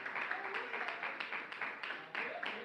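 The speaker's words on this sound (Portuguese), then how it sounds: "Palmas de vitória para Jesus de Nazaré" Clapping from a church congregation, steady and rhythmic, fills the whole short stretch at a moderate distance with no break.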